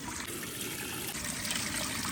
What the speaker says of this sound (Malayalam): നമ്മൾ റൈസ് എടുക്കുന്നതിൻ്റെ ഒന്നര ഇരട്ടിയാണ് നമ്മൾ വെള്ളം ഒഴിക്കുന്നത്